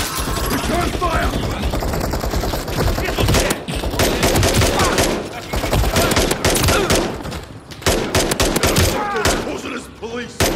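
Heavy video game gunfire in a shootout with police, rapid bursts of automatic and single shots cracking almost nonstop, loud and close, with voices talking over parts of it.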